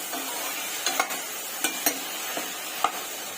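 Brinjal pieces fry in a pan with a steady sizzle, broken by a few distinct scrapes and taps as a spoon stirs them, close and moderately loud.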